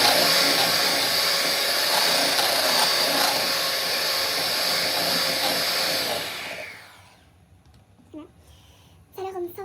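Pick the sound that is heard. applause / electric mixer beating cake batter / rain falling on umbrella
electric mixer beating cake batter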